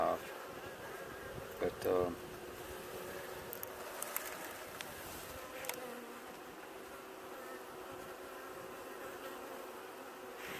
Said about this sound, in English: I still got some bees here that are on the inside of the screen